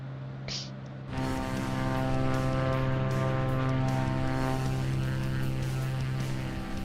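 A Cirrus light aircraft cruises in flight on an IFR trip from Niagara Falls to Taunton, its propeller engine giving a loud, steady droning hum with strong harmonic tones that swells slightly after the first second and holds constant.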